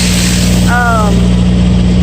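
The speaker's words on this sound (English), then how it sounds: "I've been idling my truck, and that's been kind of working." A truck's engine idling, a loud, constant low hum with a steady drone up close, while a brief voice-like tone rises once early on.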